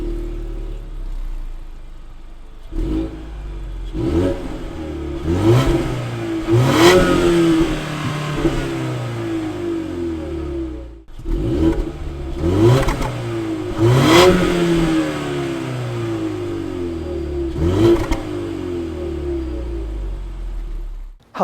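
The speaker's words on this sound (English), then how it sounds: "let's take a listen of how it sounds" A 2020 Ford Mustang Convertible engine revs loudly and close, climbing in repeated bursts with pauses between, the pitch sweeping up then falling back toward idle.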